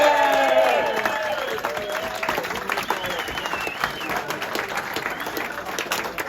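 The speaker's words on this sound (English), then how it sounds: "Can we have a round of applause for the Rotherham Titans?" A clubhouse audience applauds the Rotherham Titans rugby team after their win over Harrogate, a broad round of clapping and some cheering that fades slightly, with someone speaking over the start.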